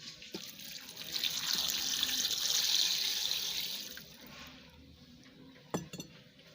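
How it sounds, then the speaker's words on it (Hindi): Water runs from a tap into a cooking pot for goat trotter paya, a steady rushing splash that builds and then fades, followed by a couple of sharp metallic clinks near the end. No one speaks. "पानी डाल लेंगे"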